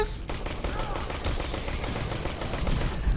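Rapid automatic gunfire rattles from a weapon in the video game Aliens: Colonial Marines, a dense continuous burst that stays close and loud for the full few seconds, with the pace quickening toward the end.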